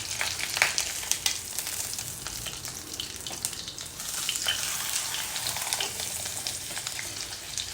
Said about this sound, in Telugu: నెయ్యి అంతా కడాయి చుట్టూ స్ప్రెడ్ అయ్యేటట్టు చుట్టూ ఇట్లా తిప్పుకొని వేయించుకోవాలి, లేకుంటే పన్నీర్ అతుక్కపోతుంది